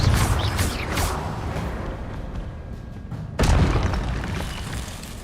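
In Hogwarts Legacy, the Confringo fire spell goes off with a heavy boom, then a rumbling decay and a second sharp blast midway. The bursts are loud, close and unaccompanied by talk.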